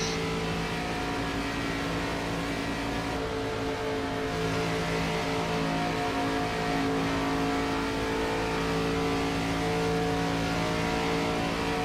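A mini stock race car engine revs hard during a dirt-track race, a dense continuous roar that rises slightly in pitch and stays loud throughout, with no talk over it.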